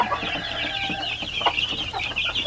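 Native chickens cluck and murmur nearby in a continuous, busy chatter of short calls on a farm.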